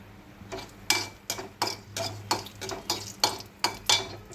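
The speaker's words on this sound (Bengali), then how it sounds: "দিয়ে লঙ্কাগুলো দিয়ে ভাজা হচ্ছে" Green chilies fry in hot oil in a pan, crackling and popping with about a dozen sharp bursts spaced roughly evenly, close and fairly loud.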